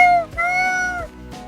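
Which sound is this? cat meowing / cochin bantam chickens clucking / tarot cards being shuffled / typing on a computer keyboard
cat meowing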